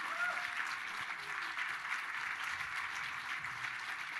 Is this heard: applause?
yes